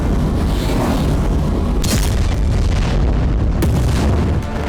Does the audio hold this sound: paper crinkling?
no